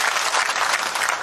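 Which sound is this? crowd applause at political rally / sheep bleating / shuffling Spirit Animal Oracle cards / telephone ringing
crowd applause at political rally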